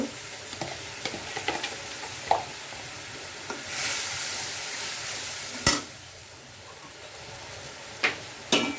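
Ground spices, including cumin, ginger and garlic paste, turmeric, chili and coriander powder, fry in a pan, with soft sizzling beneath close stirring scrapes and occasional sharp clacks of the utensil.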